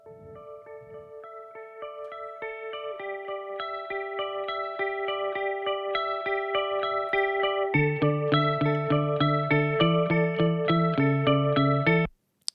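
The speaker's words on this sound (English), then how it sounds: "So that's the guitars with some octave lower and an octave higher" Processed electric guitar plays a repeating note pattern that grows fuller, then deep lower and bright higher octave layers join before it stops suddenly.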